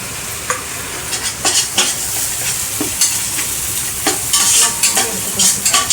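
Ginger garlic paste frying with tomatoes and chillies in a pan for biryani, close and loud, with a bright steady sizzle broken by repeated scraping stirs of a spoon.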